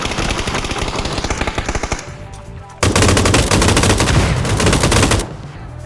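Rapid bursts of automatic gunfire from a PUBG match, loud and dense, with a brief pause before another sustained volley of fast shots.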